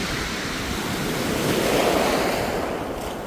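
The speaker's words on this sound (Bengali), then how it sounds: "সমুদ্রের পানির গর্জন" Sea waves roar steadily along a shore, a loud continuous wash of surf with some wind noise on the microphone and no voices.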